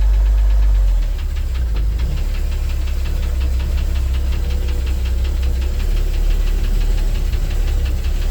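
Engine of a 1974 Ford manual truck as the clutch is eased out, a loud low rumbling idle with a steady knocking throb that dips briefly as the load comes on, then continues.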